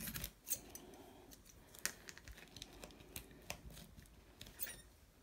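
Close, quiet scissor snips trim tape along the edge of a chunky glued journal, a series of short crisp cuts mixed with faint crinkling of tape and paper.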